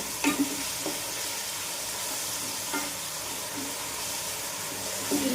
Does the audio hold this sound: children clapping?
no